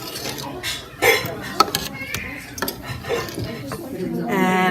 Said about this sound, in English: And we're going to stir it around.